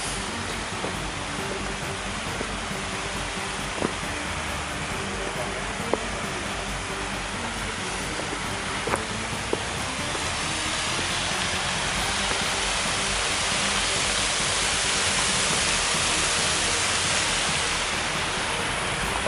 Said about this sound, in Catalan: Ara estem a sobre del sal del molí